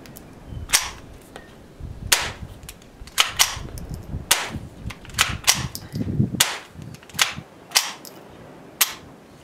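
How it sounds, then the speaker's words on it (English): A standard .22 long rifle firing Aguila quiet rounds outdoors produces about a dozen sharp, subdued cracks at irregular intervals, each short and snappy rather than booming, with quiet rustling between shots. "you're basically getting suppressor quality sound out of a standard 22 rifle"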